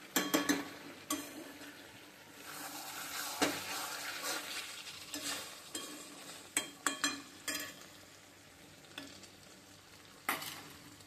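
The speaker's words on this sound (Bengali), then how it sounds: "আর রসুন বাটা, পেঁয়াজ বাটা সব কিছু দিয়ে ভালো করে কষিয়ে নিচ্ছি" Onion and garlic pastes sauté in a covered pan, a soft sizzle beneath frequent spoon scrapes and clinks against the metal, moderately quiet and close.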